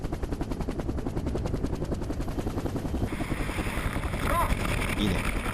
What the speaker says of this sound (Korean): 드디어 적당한 강화 지점에 멈춰선 헬기